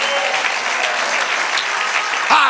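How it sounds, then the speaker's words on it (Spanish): Church congregation bursting into applause during a Spanish-language service, a loud continuous patter of many hands close by, with a brief voice cutting in at the very end. "¡Aplaude la iglesia!"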